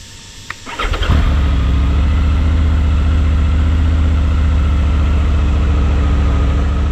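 A Triumph Tiger 900 motorcycle engine cranks briefly and fires, then holds a loud, steady idle close by.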